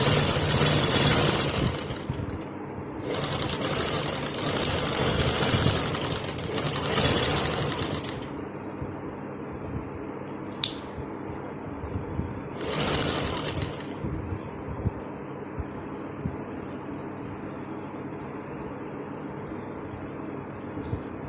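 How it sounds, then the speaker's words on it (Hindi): An electric sewing machine stitches kurti fabric along buckram, three loud bursts of rapid mechanical rattling separated by quieter pauses with a low background hum. "बुकरम के बिल्कुल साथ साथ आपने सिलाई मशीन चलानी है।"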